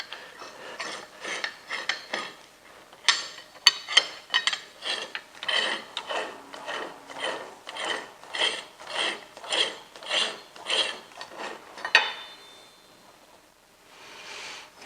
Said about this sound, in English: pull the big nut at the left end tight with the wrench again